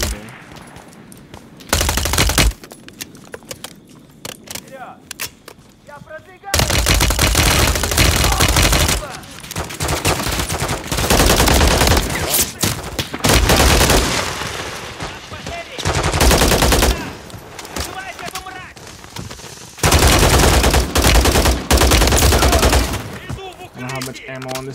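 Loud bursts of automatic gunfire from Call of Duty: Modern Warfare 3 campaign weapons, coming in several long sustained volleys separated by quieter stretches of game ambience.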